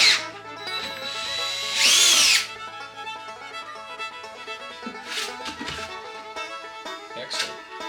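Power drill with a cheap, dull bit boring into wood for a log birdhouse, heard as a loud whine that bursts in strongly for about half a second, then softer intermittent drilling and handling noise close by.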